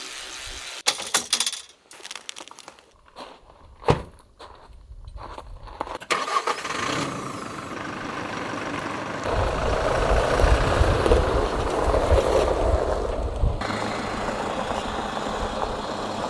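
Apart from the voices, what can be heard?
car engine driving on road near Windhoek, Namibia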